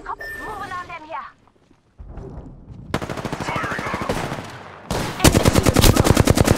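Automatic gunfire from the video game Apex Legends: after a short voice at the start, rapid repeated shots build into dense bursts that grow louder and more continuous toward the end.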